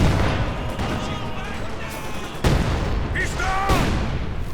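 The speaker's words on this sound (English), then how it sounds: "Another well-placed barrage right there." In the World War II strategy game Company of Heroes 2, an artillery barrage lands as heavy booming impacts, with two sharp blasts standing out over dense battle noise while a commentator talks throughout.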